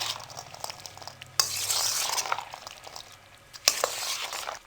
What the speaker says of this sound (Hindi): अब इनको हम अच्छे से मिक्स करेंगे।